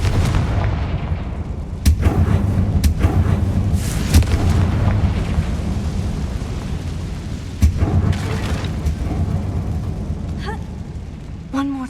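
Confringo explosive spell cast in the video game Hogwarts Legacy, a few sharp booming blasts and bursts over a rumbling game soundscape, loud and close, with a voice speaking between them.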